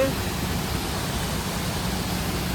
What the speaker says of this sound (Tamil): என்னடா இப்படி தண்ணி வருது?